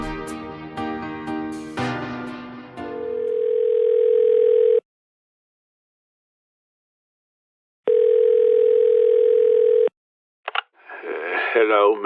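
A telephone dial tone hums steadily as a phone call is placed, first under spoken words and music, then alone, cutting off, returning for a couple of seconds, and ending before voices begin.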